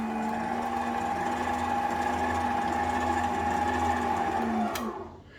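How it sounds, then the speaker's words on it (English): An electric stand mixer dry-mixes bread ingredients in a steady, even motor whir with a humming tone, running close and loud for about five seconds before it winds down and stops. "On this mixer you go down to the side to start it off. I'm just going to give it a quick dry mix."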